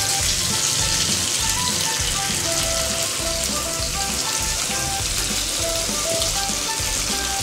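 Fish frying on a tawa as the pieces are turned over, a steady dense sizzle and crackle like rain that continues throughout at a constant close level with no talking.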